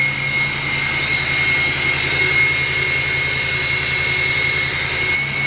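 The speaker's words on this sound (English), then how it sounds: "You hear that turbo? Sounds so good." Turbo of an L5P Duramax diesel pickup truck fitted with a muffler, revving in a loud, steady roar with a high whine and a low rumble running throughout, close by, with no talking.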